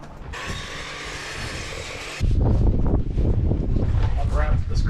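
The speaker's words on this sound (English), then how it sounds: "Oh, because it's so windy?" Strong gusts buffet an outdoor microphone while heavy boards are cut on a miter saw, a loud low rumbling roar that grows heavier halfway through, over a steady background whine, with occasional speech.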